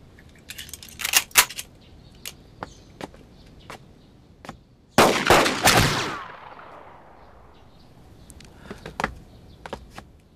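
Test shots fired in a war TV drama: a few sharp cracks early on, then a loud blast with a long ringing decay, followed by scattered lighter clicks and knocks.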